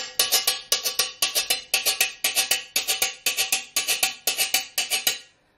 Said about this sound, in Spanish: Ok, Guira Dominicana.